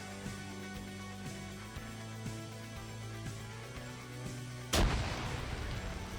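A sharp, loud blast from an M32 grenade launcher in a video game, fired once near the end after a steady stretch of game ambience, with a noisy burst trailing off.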